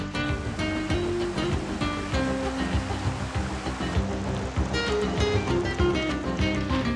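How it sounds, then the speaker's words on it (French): An underground river flows through a vast cave chamber beneath the Vercors high plateaus, giving a steady, loud rushing wash of water that fills the whole stretch without pause. "Au fond coule une rivière."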